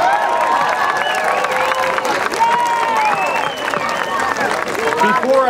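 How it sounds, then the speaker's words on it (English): Audience at a New York City Hall meeting against antisemitism applauds the New York Police Department, a dense, steady round of clapping with cheering and crowd voices, loud and continuous throughout. "And a quick round of applause for New York Police Department."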